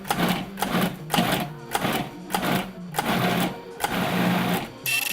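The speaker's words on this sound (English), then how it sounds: "We're transferring our roasted cauliflower to the food processor, where we'll pulse until finely chopped." A food processor pulses roasted cauliflower in short repeated bursts, about eight even whirring pulses with brief gaps, close and clear with no talk.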